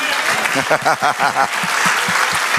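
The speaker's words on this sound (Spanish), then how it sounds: "¿Le damos otro aplauso eterno?" Applause from a church congregation fills the space steadily, a dense wash of clapping with a few rhythmic claps standing out through the middle.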